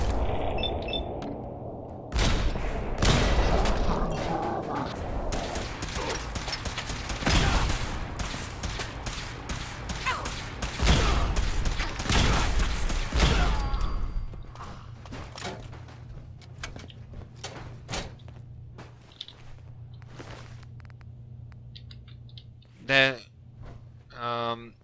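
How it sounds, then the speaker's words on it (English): Rapid bursts of gunfire from a fast-firing weapon in the video game Fallout 4, loud and dense for the first half, then thinning into scattered shots under quieter game sounds. "The rate of fire on this thing is quite alright."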